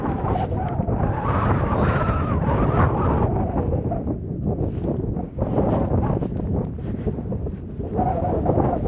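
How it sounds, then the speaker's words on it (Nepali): Strong mountain wind on the Gosaikunda trek near Suryakunda at about 2610 m, a loud continuous roar buffeting the microphone with gusty swells and no speech. "हावा चाहिँ लास्टै हावा चल्यो क्या कठाङ्ग्री नै हावा चल्यो"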